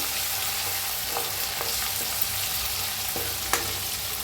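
A crushed spice mix with green chilies roasting in a pan for dal dhokli, a steady broadband sizzle with faint scraping stirs throughout and one sharp clink near the end, no voices.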